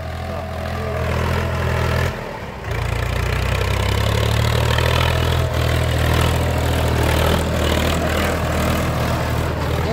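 A Swaraj 735 FE tractor on 13-inch tyres, rigged with a 14-disc harrow, runs steadily nearby with a loud, continuous low engine drone that dips briefly for a moment before resuming at full throttle.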